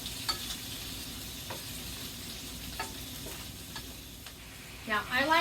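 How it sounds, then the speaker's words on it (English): Pork chops fry in bacon grease in a grill pan with a soft, steady sizzle and occasional faint ticks, and a brief voice is heard at the end. "you have these frying in bacon grease"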